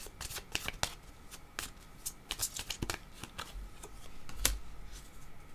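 Tarot cards being shuffled by hand, a rapid run of crisp riffling flicks and soft slaps with brief pauses between bursts, close and fairly quiet, with no voices.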